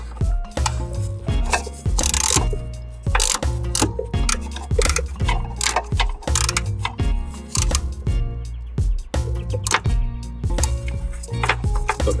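A ratchet wrench works a long engine bolt loose on a Ford Mondeo, with close, rhythmic bursts of sharp metallic clicking repeated throughout.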